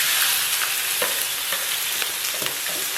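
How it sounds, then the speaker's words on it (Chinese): Lamb slices fry in hot oil in a wok, giving a steady, close, crackling sizzle dotted with small spitting pops. "咱们给锅里边稍微来点油，油微热啊，咱们把这个羊肉给它下里边"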